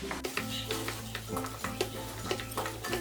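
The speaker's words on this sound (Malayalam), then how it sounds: "ഈ പൊടിച്ചു വെച്ചിരിക്കുന്ന പൊട്ടറ്റോ ഇതിലിട്ടിട്ട് നല്ലതുപോലെ ഒന്ന് ഇളക്കി കൊടുക്കാം" Mashed potato gets stirred into a beef cutlet mixture in a pan, a soft scraping and clacking of a spoon repeating in a steady rhythm over a low sizzle, close and fairly quiet.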